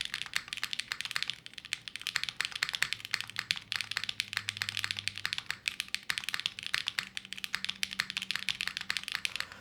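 Rapid, close typing on a lightweight Nascent mechanical keyboard: a dense stream of soft, consistent keystroke clacks running steadily throughout, with no talking.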